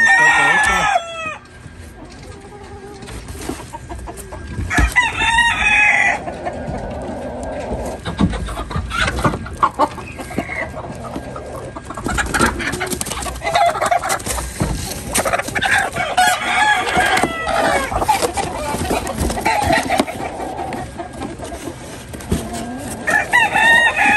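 Chickens cluck and a rooster crows repeatedly on a small ranch, close and loud, with several crows spread across the scene and some background noise.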